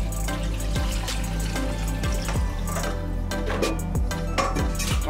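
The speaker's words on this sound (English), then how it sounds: "And you're gonna add the 3 cups of water that we had in our bowl." Three cups of water pour steadily into a blender for birria, a continuous close splashing and gurgling with occasional hard clinks, no talking.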